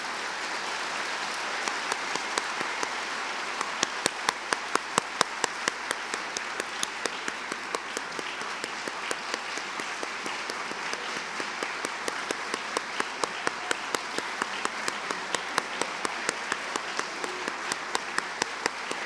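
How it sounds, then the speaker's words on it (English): A middle school all-county band concert audience gives band directors sustained applause: a thick, continuous roar of clapping in a large hall, with some sharper claps falling into a steady rhythm throughout. "Let's give them a round of applause."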